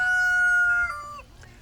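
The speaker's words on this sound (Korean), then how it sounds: "수탉이 내는 소음 때문에 그렇습니다." A backyard rooster gives a single close, loud crow that rises and trails off in under two seconds.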